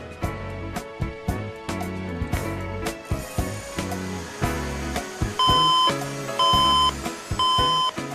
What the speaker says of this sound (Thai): ถ้าเปิดมาแล้วที่เมนบอร์ดมีเสียงดัง 2 หรือ 3 ครั้ง แสดงว่ามีปัญหาในส่วนของแรม